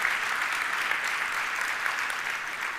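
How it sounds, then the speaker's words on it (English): Audience applause for a speaker fills the room at a steady, dense level, with many hands clapping close by and no break across the short stretch. "A thunder round of applause for Sonu Sood."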